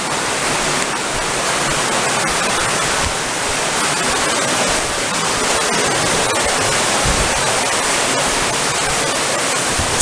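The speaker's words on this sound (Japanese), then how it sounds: "川が流れてますね。" A river flows inside a limestone cave on a rainy day, producing a steady, dense rushing wash of water that stays loud and even throughout, with no voices.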